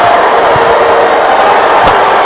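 A crowd of around 3,000 cheers and roars in a badminton arena at the European Junior Team Championships, a steady loud wash of voices with a few thumps.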